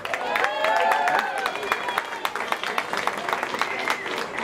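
Crowd applause at a cosplay convention prize giving, scattered sharp claps forming a moderate round of clapping, with talking and cheering voices heard over the start.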